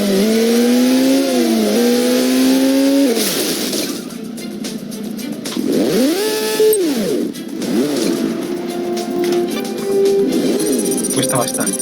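A motorcycle engine in the video game HeadHunter revs and shifts pitch repeatedly, rising and falling through gear changes, loud and close, with game sounds mixed in.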